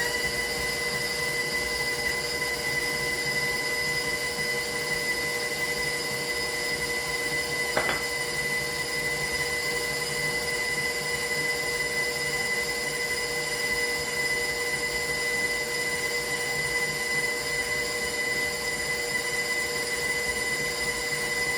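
An electric mixer creams vegetable shortening and sugar for a Christmas cake, giving a steady, loud, close motor whine with constant tonal hum that runs unchanged throughout, broken only by a single brief click partway through; no voices.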